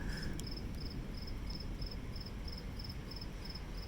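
Insects chirp at night during an electrical storm, giving a faint, steady, evenly spaced series of short chirps over a constant low rumble of wind and rain.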